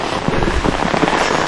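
Heavy rain pours down on an adventure trip to the Kattadikadavu viewpoint in Kerala, a loud dense hiss of drops with soft thuddy patters close by.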